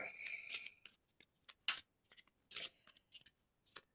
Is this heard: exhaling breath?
no